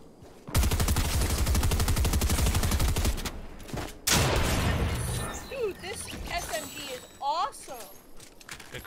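Combat SMG fire in a Fortnite duo match: a long rapid burst of automatic shots, a pause, then another short burst, followed by scattered game sounds, with players talking throughout.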